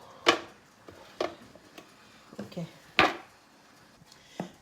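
A baking tray holding a frozen baguette goes into the oven, with several sharp metallic clanks and knocks spaced irregularly amid quieter handling sounds.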